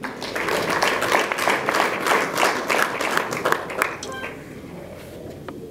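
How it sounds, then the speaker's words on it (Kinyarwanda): Wedding guests clap in sustained applause with a dense crackle of hands that tapers off toward the end, while a voice talks over it. "Amashyi menshi"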